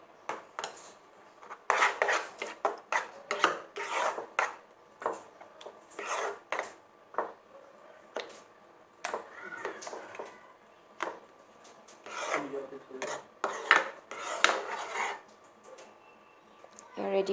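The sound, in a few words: atta halwa scraped from pan into a bowl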